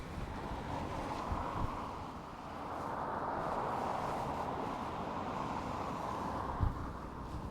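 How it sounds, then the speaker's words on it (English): Wind gusts steadily across the microphone outdoors during a walk through Edinburgh's Old Town, a continuous low rumbling buffet that swells and eases without a break. "It's a bit windy."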